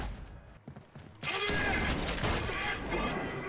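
Gunfire from a shotgun or SMG in a first-person shooter on a hard difficulty, bursting in abruptly after a quieter lead-in and then running as a dense, loud, sustained barrage of shots.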